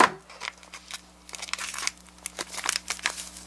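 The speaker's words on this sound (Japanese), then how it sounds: "ハサミがないんでね、包丁で開けます。" A kitchen knife slices open a foil-like package of baker's yeast, giving a string of close, crisp crinkling and tearing rustles in irregular bursts, with no talking.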